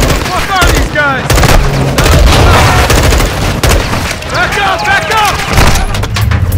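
Heavy Call of Duty firefight with dense automatic gunfire and explosions, loud and continuous, while soldiers shout urgently over the shooting.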